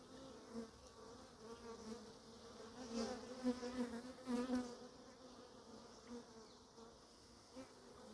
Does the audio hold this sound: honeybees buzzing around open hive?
yes